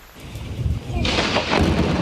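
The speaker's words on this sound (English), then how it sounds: "Lightning striking in eastern Ohio. Heavy rain falling in Pittsburgh." Severe thunderstorm over eastern Ohio and Pittsburgh: a low rumble of thunder swells into a loud, broad crash over the steady wash of heavy rain, near and continuous.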